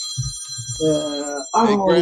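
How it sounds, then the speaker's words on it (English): An iPhone ringtone goes off during a live talk show, with steady high electronic ringing tones running throughout, close and clear, under a voice speaking over it. "That's my damn iPhone going off."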